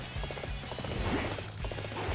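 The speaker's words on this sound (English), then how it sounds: "Let's call our horse." Horse galloping in the video game Dynasty Warriors 8 Empires, a steady run of rhythmic hoofbeats over constant game background noise, with no talk.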